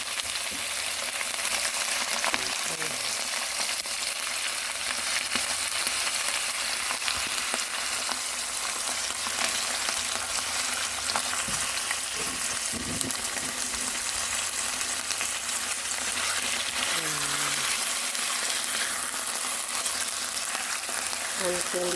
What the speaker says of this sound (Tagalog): Ngayon naman ilagay ang chicken at paghalo-haloin.